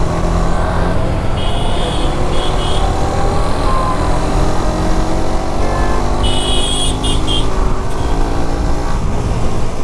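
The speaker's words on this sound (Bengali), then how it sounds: "পুলিশের গাড়ি নিয়ে চলে আসছে।" A police car comes along a busy road amid steady loud traffic noise, engines droning continuously with faint high whines and tones passing through.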